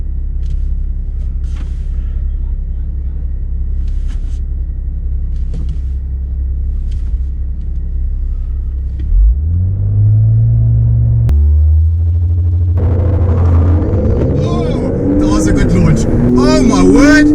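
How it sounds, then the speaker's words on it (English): A BMW M135i at idle with a deep, steady rumble, then launching on launch control and accelerating hard with a rising engine roar through the gears. A voice comes in loudly over the engine near the end. "I'm going to let the gearbox do the work. I'm just going to initiate launch control"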